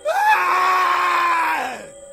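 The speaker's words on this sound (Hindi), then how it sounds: "बंटी डर के मारे चीखने चिल्लाने लगता है।" A boy screams in terror in a Hindi horror story about a haunted pizza delivery, one sustained high-pitched shriek lasting under two seconds that rises sharply, holds, then falls away.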